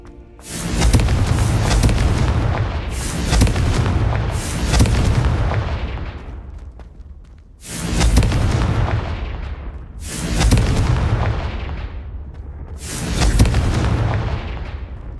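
Repeated Confringo fire spell explosions from the video game Hogwarts Legacy, six loud booming blasts in an uneven rhythm, each with a rumbling low tail that decays before the next strike.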